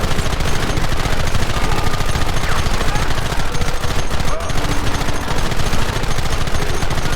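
Rapid, sustained gunfire fills a chaotic shootout in the Red Dead Redemption video game, with dense overlapping shots and a constant loud barrage from start to finish.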